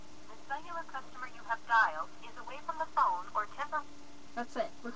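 A phone call being dialed and ringing through, with a chain of short tonal beeps and warbling tones, close and clear, heard on its own.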